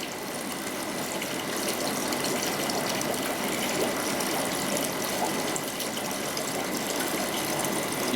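Water rushing steadily through a gravel siphon tube while cleaning a fish tank, a dense continuous gush with faint rattling of stirred gravel, close and even throughout.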